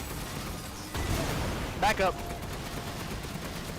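Cannon fire in Resident Evil Village during a boss fight: a sharp blast followed by two quick ringing bursts close together, with someone briefly speaking over it.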